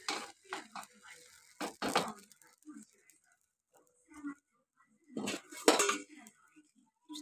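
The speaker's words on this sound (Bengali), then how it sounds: "চামচ দিয়ে নেড়ে দিচ্ছি।" A spoon stirs patishapta batter in a bowl, making short bursts of clinks and scrapes separated by quiet gaps.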